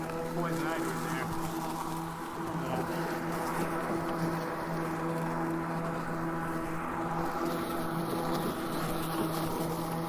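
A GreenWorks Twin Force battery lawn mower runs steadily outdoors, its motor giving a constant, close, even hum that never ramps up, with someone talking over it.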